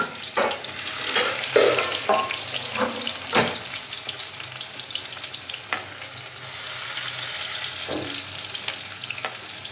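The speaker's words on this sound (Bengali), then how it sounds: "তেল ভালো মতো গরম হয়ে গেছে চলো আমি একে একে এখানে পেঁয়াজ কুচিগুলো ছেড়ে দিই" Chopped onions dropped into hot oil, a bright sizzle swelling as they go in, with scraping and stirring clatter and a few knocks over the continuous frying hiss, no talk.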